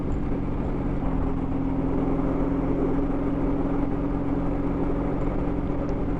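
A BMW R18 Transcontinental motorcycle cruises on a motorway, its steady low engine drone blending with constant wind and road roar, with no clear rise in pitch over several seconds.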